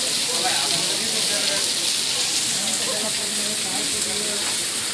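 Steady, dense rush of falling water from a rainy-season waterfall at the Ajanta caves, a loud continuous hiss with no break, with faint voices beneath it.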